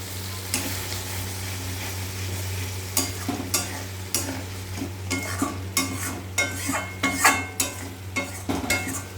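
Spice masala sautéing in a pan, a steady sizzle under repeated scraping strokes of a spatula that grow busier and louder toward the end, with no talking.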